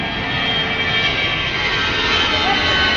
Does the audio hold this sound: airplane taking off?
yes